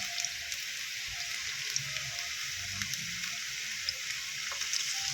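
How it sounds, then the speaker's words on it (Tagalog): Chopped onions sautéing in a pan for an ampalaya and egg dish, giving a steady close sizzle with a soft crackling hiss and faint scattered pops throughout, with no talking. "Maggisa ng sibuyas"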